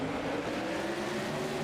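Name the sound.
modified race cars starting the race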